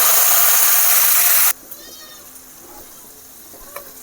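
Fish going into cooked spice paste in a pan, a loud broad sizzle for the first second and a half that then drops to a quiet simmer with faint bubbling and small clinks.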